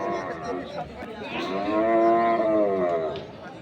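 A cow moos in a long, loud, drawn-out low call that swells and fades at a cattle market, with faint crowd murmur in the background.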